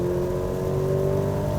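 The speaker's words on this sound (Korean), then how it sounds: "이렇게 뒤쪽에서 들려오는 배기음," A Maserati Grecale Modena's 2.0-litre four-cylinder engine revs, its exhaust note a steady, sustained drone heard from inside the cabin on a wet road, continuous and moderately loud with no talk.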